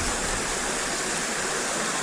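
A river rushes steadily past its bank in the Helvellyn fells, a dense, even wash of flowing water heard up close with no breaks or voices.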